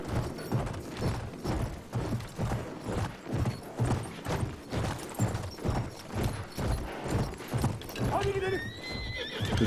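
Horse neighing and whinnying with steady clip-clopping hooves in Battlefield 1 gameplay, loud and rhythmic throughout, with a higher whinny near the end and game noise mixed in.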